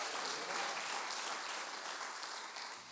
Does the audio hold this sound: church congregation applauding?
yes